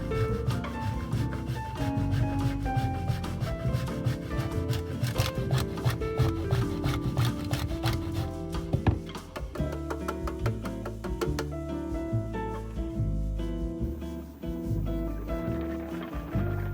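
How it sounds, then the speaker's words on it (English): Parmesan cheese scrapes against a grater in quick rhythmic strokes, a close, continuous rasping that keeps up throughout with no talking. "grate 1/4 cup of Parmesan cheese"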